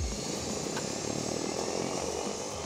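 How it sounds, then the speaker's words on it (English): Hail-suppression aircraft at Springbank and Red Deer airports run their engines with a steady propeller drone and broad whirring hiss. The sound is moderately distant, holds at an even level with no voices, and has a brief low thump at the start. "those pilots on standby at Springbank and Red Deer airports were told to start their engines"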